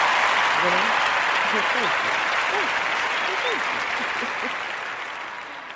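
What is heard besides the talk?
applause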